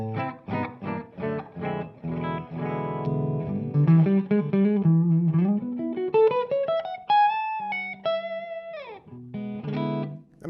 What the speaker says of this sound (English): We're going to start with the clean channel on a Les Paul.